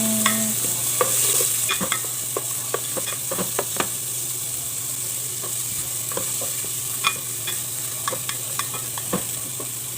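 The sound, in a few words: onion frying in oil being stirred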